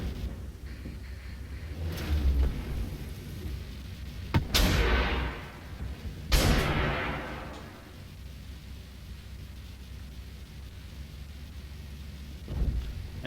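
Swingfire missiles from a tier-4 vehicle striking targets in the tank game Armored Warfare, heard as two loud, sharp blasts about two seconds apart with rumbling tails, framed by fainter thuds and low engine rumble.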